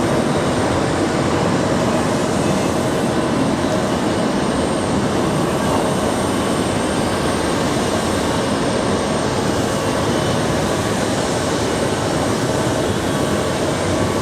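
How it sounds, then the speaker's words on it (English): An Icelandair airliner departing JFK airport for Reykjavik makes a loud, steady jet engine roar that holds unbroken throughout, with no voices. "There goes the Iceland Air flight"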